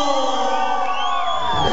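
A crowd at a rock music party roars and cheers together, a dense sustained wall of shouts and whoops that stays loud from start to finish.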